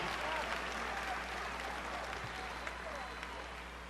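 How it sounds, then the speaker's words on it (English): A crowd at a political campaign rally in Pittsburgh applauds in a sustained wash of clapping that tapers off slightly toward the end. "I'm not looking for applause right now."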